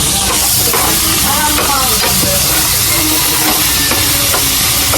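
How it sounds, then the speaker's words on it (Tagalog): Ingredients for sinigang are sautéed in a pan, giving a loud, continuous sizzle with frequent scraping stirs throughout and no talking. "Ayan, basta gigisa nyo lang yan siya."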